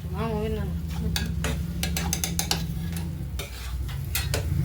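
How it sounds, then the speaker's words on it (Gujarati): Urad flour roasting in hot ghee for adadiya, heard as a soft steady sizzle with stirring scrapes and a few utensil taps against the pan, close and continuous under a low hum. "બ્રાઉન કલરની ઘીમાં આપણે શેકવાનું છે ઘી ગરમ થઈ જાય"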